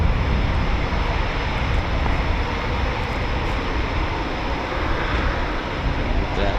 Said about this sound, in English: Two more Typhoons, 3 more Typhoons taxiing.